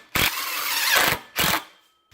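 Screws driven with a power driver clamp a galvanized metal pipe collar tight, in two loud close bursts of whirring mechanical grinding, the second shorter, with no talking.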